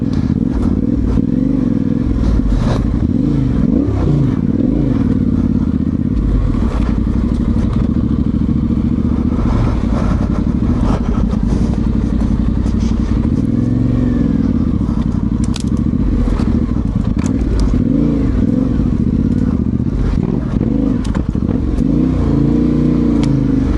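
Yamaha Tenere 700 motorcycle riding a local trail, loud close engine note rising and falling with revs, punctuated by clatter, crackle and thumps from rough ground.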